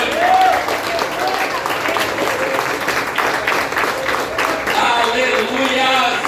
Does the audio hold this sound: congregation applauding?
yes